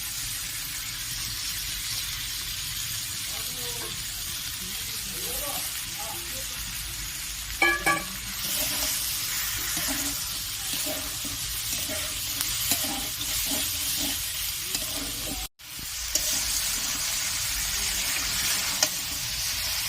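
Fried mixed vegetables for Bengali shukto are stirred and sautéed in a pan, a steady scraping and sizzling that continues throughout with occasional louder knocks and brief clatters, close and fairly quiet, with no talk.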